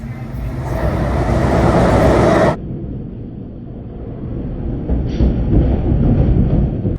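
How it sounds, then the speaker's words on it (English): A train rumbles past nearby in an industrial area, loud and broad, then cuts off abruptly and gives way to quieter traffic-like noise. "here comes a train"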